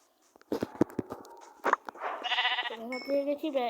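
Several Minecraft sheep bleat in quick succession, fairly close and loud, following a few sharp clicks and thumps; a voice talks briefly early on.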